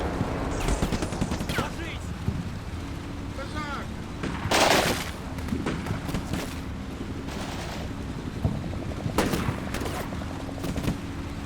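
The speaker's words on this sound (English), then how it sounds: "It's like they're firing into the house across the way over here. Sounds like grenades." Gunfire crackles in the wargame Combat Mission Black Sea, with scattered shots and short bursts at mid-distance and a louder burst like a grenade blast, under faint wind and occasional talk.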